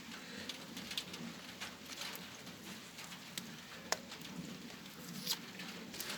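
Light Monday-morning rain patters steadily outdoors, a soft continuous hiss with scattered drips and small taps, fairly faint and with no voices.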